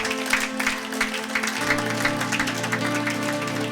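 A church congregation applauding during a service, many hands clapping in a steady rolling patter over sustained keyboard chords that shift midway, with no voices.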